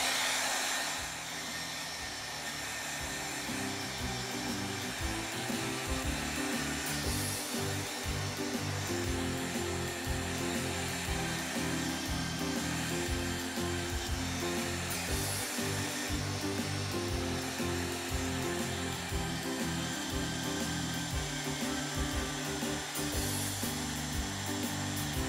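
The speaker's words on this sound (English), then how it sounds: "I'm gonna blow dry this for a little bit." A hair dryer blows steadily on a piece of artwork at a family art night, a continuous close whirring drone that holds level for the whole stretch with no talking over it.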